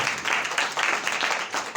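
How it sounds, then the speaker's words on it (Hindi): A church congregation claps in steady, dense applause that fills the room and stays loud throughout the short stretch. "भरपूर तालियों में उसकी शुक्रगुजारी करें"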